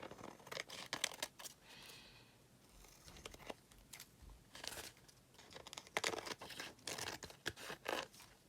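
Scissors cut down an oversized paper envelope with repeated crisp snips and crinkling, rustling paper in uneven bursts, close and fairly quiet, with no talking.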